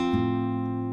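Quick run of fingerpicked acoustic guitar notes from an intro, a fresh pluck about a tenth of a second in joining a sustained ringing tone, all held steady and close for one second with no talk.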